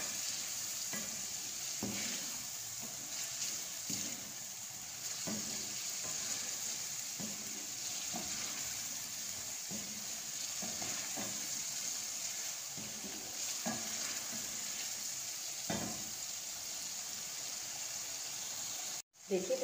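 A chicken cream handi mixture with white pepper powder, black pepper and salt is stirred in a pan, gently sizzling and scraping with soft rhythmic strokes over a steady frying hiss.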